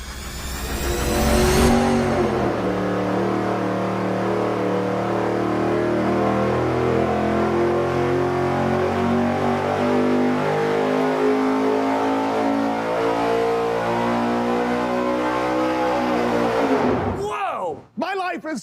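A V8 fitted with dual four-barrel carburetors on tunnel-ram intakes and EFI revs hard on an engine dyno, a sustained loud pull with rising harmonic whine before cutting off sharply near the end, with some talk around it.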